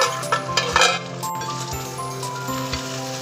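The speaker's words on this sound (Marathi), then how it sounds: "पण आता झाकण काढून परतून घेऊ" Green chili eggplant curry is stirred and sautéed in a pan with the lid off, giving a steady sizzle with clinks and scrapes of a utensil against the metal.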